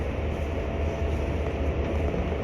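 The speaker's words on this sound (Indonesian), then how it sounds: "Pada saat ini kereta api Mutiara Timur sudah sampai di stasiun Sidoarjo" The KA Mutiara Timur passenger train arrives at Sidoarjo station, a steady low rumble of rolling railcars heard from on board, loud and continuous with no voices.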